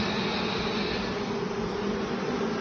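Field honey bees fly into an empty hive at a frameless skep apiary in Finland, their dense, steady buzzing filling the air close by with no break throughout.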